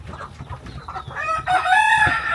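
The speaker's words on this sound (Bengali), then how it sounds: "এটা ব্ল্যাক অস্ট্রেলিয়ার মুরগ" A Black Australorp rooster clucks in short low bursts, then breaks into a clear, close crow that lasts through the second half.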